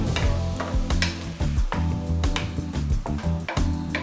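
Small shrimp pieces sizzle loudly in a hot pan as they are stirred, a dense continuous crackle and hiss close by with scraping clicks throughout.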